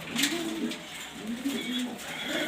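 Pigeons coo in soft, repeated throaty phrases, a matched pair of Mili pigeons heard close by, with faint background noise throughout.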